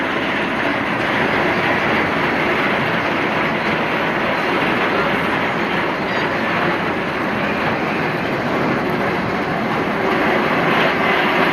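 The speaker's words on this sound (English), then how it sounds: "watch the train come through the first one here" The Twisted Timbers roller coaster train at Kings Dominion rumbles past with a steady, loud roar and rattle that holds for several seconds without fading.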